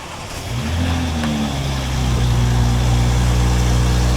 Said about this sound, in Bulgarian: Първи старт, брат. Cold start.